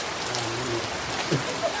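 Steady rain falls outdoors near a waterfall, making a continuous close hiss and patter with a few brief louder drops throughout.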